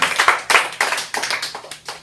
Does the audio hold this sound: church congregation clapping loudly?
yes